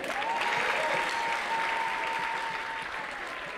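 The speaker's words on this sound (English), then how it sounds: "And put your hands together for God for making it possible." Steady applause from a comedy club audience at the Alex Muhangi Comedy Store, sustained and fairly distant, with a faint tonal hum running beneath it and no voices over it.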